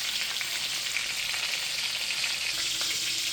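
Pork chops frying in a pan on a farm kitchen stove, a steady bright sizzle and crackle that holds evenly throughout with no voices.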